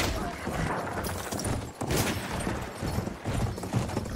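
Cavalry horses gallop through a video game battle as gunfire crackles around them, the hoofbeats dense and continuous under bursts of shots, with voices calling out over the action.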